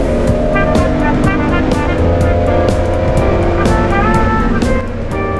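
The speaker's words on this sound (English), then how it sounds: "I'm doing the start of the race and then Mike will take over at the halfway" Classic 1960s race cars, including an MGC-GT Sebring, roar together at the start of a race at Snetterton in Norfolk, a loud continuous blend of engines with rising revs and no talk.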